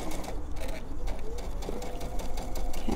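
A sewing machine stitches minky fabric for a stuffed pillow with a steady, close mechanical whirring and rapid needle rhythm, with brief backstitching.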